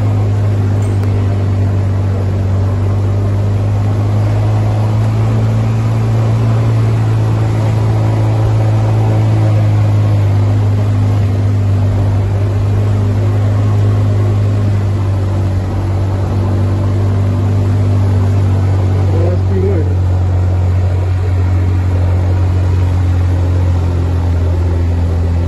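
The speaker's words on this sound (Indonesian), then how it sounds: "tanjakannya benar-benar membuat ya mesin ngebul bekerja maksimal" A vehicle engine labours steadily up a steep, extreme hill-climb route in the Pacitan hills, a loud, constant low drone that holds without easing for the whole stretch.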